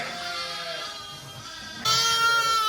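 Sheep bleat repeatedly at lambing time, layered and fairly close, with a louder, sharper call breaking in near the end over a busy barn background.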